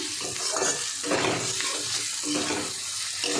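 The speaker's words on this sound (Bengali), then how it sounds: "দেখুন চিংড়ি মাছ একদম ভাজা হয়ে যাচ্ছে।" Close, steady sizzling of shrimp frying in spices in a pan, with scraping stirring sounds that come and go in rhythmic strokes.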